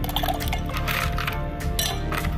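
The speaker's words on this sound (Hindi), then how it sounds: "इस बीकर में मैंने तकरीबन लिया है कोई 400 मिलीलीटर पानी, सादा पानी है, और ये इसमें मैं डाल देता हूँ" About 400 ml of plain water poured into a beaker, a continuous close splashing, gurgling flow throughout.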